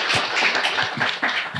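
An audience at a Temple Terrace city candidate forum claps, a brief burst of close, fairly loud overlapping hand claps.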